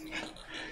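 A dog whimpers and yips briefly in a scene from the 2000 film Next Friday, a short, fairly faint whine heard alone.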